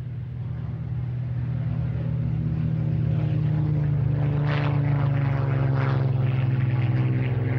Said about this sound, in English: the only ME-109 on display with an original Daimler-Benz engine. It's taking off to welcome a new resident to Duxford.